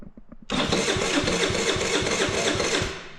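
A 2022 Icebear Maddog Gen 4 50cc scooter engine cranks right after the key is turned, a rapid steady mechanical churning that starts abruptly and runs loud and close for a few seconds without catching.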